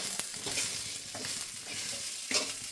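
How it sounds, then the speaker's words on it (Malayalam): Cooked clam meat with onion and grated coconut is stirred in a hot pan: a quiet sizzle under repeated scraping spoon strokes, with no talking. "എല്ലാം കൂടെ ഇളക്കണം."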